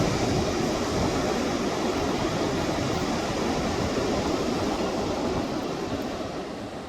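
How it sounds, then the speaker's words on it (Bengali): Rough sea surf at Patuartek beach near Inani, Cox's Bazar, a dense unbroken roar of breaking waves that holds steady and loud throughout, easing slightly at the very end, with no voices. "উত্তাল সমুদ্র।"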